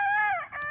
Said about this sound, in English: You might even hear the others crowing back.